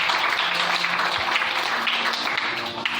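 A church congregation applauds to acclaim the Lord, a dense, steady wash of clapping that holds at an even loudness for the whole stretch, with no voice standing out above it.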